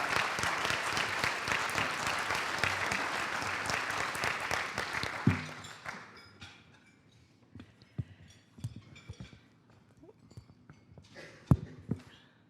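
Audience applause welcoming Congresswoman Andrea Salinas at an Oregon business forum, steady clapping from a room of people for about five seconds before fading to scattered claps, footsteps and small thumps as the room settles.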